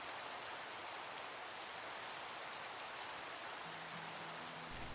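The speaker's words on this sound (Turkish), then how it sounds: "Yağmur başladı." Steady, even rain pours across a Minecraft world, a dense unbroken hiss that fills the whole stretch without pause, with a faint low tone creeping in near the end.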